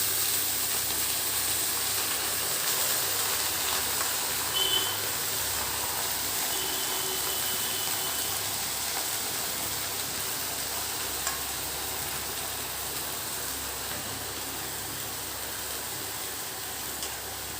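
Leafy greens frying in a pan with onion and garlic, a steady broadband sizzle and hiss that holds evenly throughout, with occasional faint stirring scrapes and no talk.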